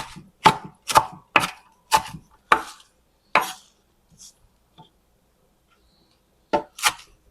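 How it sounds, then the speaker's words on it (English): Knife chopping baby spinach on a cutting board: a quick run of six sharp, close taps, a pause with faint small sounds, then two more chops at the end. "baby spinach because I'm going to chop it even smaller"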